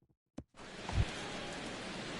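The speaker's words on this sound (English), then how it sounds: "the rain continues to fall here" Steady rain falls over a ballpark in MLB The Show 16, a constant hiss of moderate loudness after a brief thump, with no voices.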